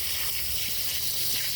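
Water sprays hard from a garden hose onto gravel and sand, a continuous hissing gush, close and steady throughout.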